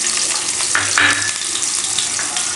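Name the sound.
onions and curry leaves frying in oil, stirred with a flat spoon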